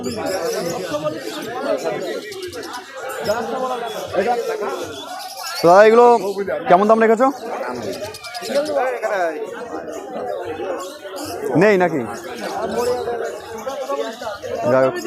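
Pigeons coo and flutter at the crowded Birnagar pigeon market in Nadia district, heard beneath near, continuous chatter and bargaining voices of buyers and sellers.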